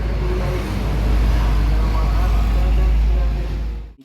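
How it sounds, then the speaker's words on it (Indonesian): Inside a GBW tour bus in West Sumatra, a loud, deep engine drone hums steadily with road noise, swelling slightly before fading out abruptly at the end. "Kita sedang berada di salah satu bus pariwisata yang ada di Sumatera Barat dengan nama GBW."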